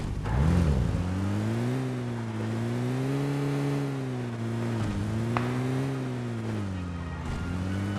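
Car engine drone in a mobile shooter video game, a steady revving hum with a wavering pitch held loud throughout, one brief sharp click partway through, and no voices.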